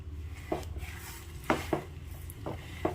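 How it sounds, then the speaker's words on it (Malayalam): Sugar being stirred into kesari in a pan, a few distinct scrapes and clinks of a utensil against the pan at irregular intervals over a low steady background hum, close and fairly quiet. "നമുക്കിതൊന്ന് ഇതെല്ലാം കൂടെ ഒന്ന് നന്നായിട്ടൊന്ന് മിക്സ് ചെയ്ത് കൊടുക്കാം."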